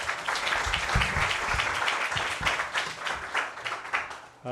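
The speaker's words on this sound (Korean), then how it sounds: "다시 한번 큰 박수 부탁드리겠습니다" Sustained applause from an audience at a Kyung Hee University education vision event, dense clapping filling the room for several seconds with a few louder claps standing out.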